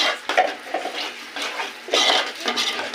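A spoon stirs turmeric and chili powder into a masala in a metal pot, giving repeated scraping and clinking strokes at close range with no talk.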